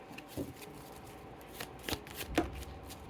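A tarot card drawn from a deck gives soft papery shuffles and slides, with a few brief crisp snaps, close and fairly quiet, and no voices.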